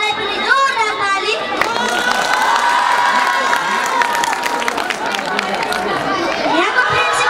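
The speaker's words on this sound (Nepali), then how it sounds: "उहाँलाई पनि जोरदार ताली।" School audience cheering a principal at a student event, with a lively crowd of children shouting and chattering loudly and continuously, a few voices rising above and scattered clapping mixed in.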